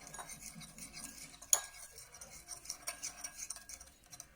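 Pink slime is stirred and mixed in a container, giving soft, irregular sticky clicks and scrapes close by, with one sharper tap near the start.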